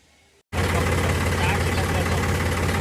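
A tractor engine runs at a steady idle after a brief quiet moment, loud and close, with a continuous broadband rumble that holds unchanged to the end.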